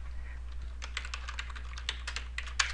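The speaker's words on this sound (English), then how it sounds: "if we type permissionsEX in the search bar for plugins.bukkit.org" Quick bursts of keystrokes rattle on a computer keyboard as a search term is typed, close and crisp over a low steady hum, with no talking.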